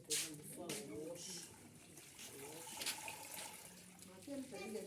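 Water runs and splashes steadily as cassava is washed by hand in a basket, while a person talks over it throughout.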